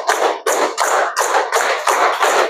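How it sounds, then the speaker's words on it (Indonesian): A crowd claps together in a brisk, even rhythm, roughly seven dense bursts of applause-like clapping close by, with no voices. "Oke, tepuk tangan untuk kita semua ya."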